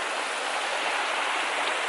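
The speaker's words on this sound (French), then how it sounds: "Il joue avec la cascade. Il jette des bâtons de bois dedans." Waterfall cascade where a child throws wooden sticks into the water: a steady, full hiss of rushing water close by, constant throughout with no distinct splashes standing out.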